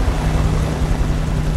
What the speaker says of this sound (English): we got the freaking helicopter after us?